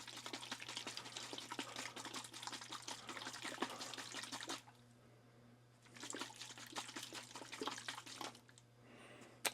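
Liquid sloshes rapidly inside a small bottle shaken by hand in two bursts, close and rattling, with a quiet pause between them over a low steady hum.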